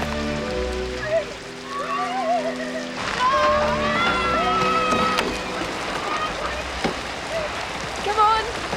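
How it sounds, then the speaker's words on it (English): Steady rain patters on surfaces outdoors, a constant hiss heard behind scattered movement and faint voices, with whistly tones sounding over it. "Raining."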